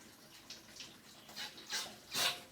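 Water sloshing and flushing through the radiator of a 1948 Morris 8, a soft, irregular gurgling rush with a few louder surges near the end.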